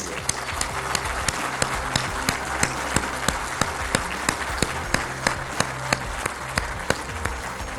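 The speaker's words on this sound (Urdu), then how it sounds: "میری آپ سب سے درخواست ہے کہ زوردار تالی لگائیں ان کے لیے" Sustained, loud applause from an audience for a girl from Pishin, steady dense clapping with a few sharper claps standing out, continuing throughout without speech.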